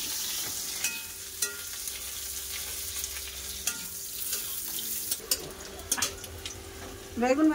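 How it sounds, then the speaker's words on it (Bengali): Eggplant slices sizzle in hot oil in a pan, a continuous close frying hiss with crackles, utensil scrapes and a few clattering knocks near the end. "বেগুন ভাজা হয়ে গেছে, বেগুন তুলে নেবো।"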